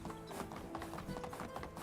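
A horse in Medieval Dynasty gallops with quick, steady clip-clop hoofbeats, close and continuous, with no pauses.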